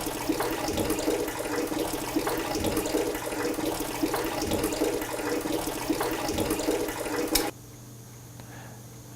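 Water gushes steadily from a shutoff valve that will not fully close during a water meter replacement, a loud continuous rush that cuts off abruptly near the end, leaving a quiet hum.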